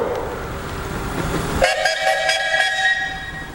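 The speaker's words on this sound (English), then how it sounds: "So, John, you got a whistle" A two-cylinder simple double steam engine at a threshers' steam show sounds its steam whistle, a loud, sustained shrill blast that cuts in over the rumbling engine and outdoor show noise.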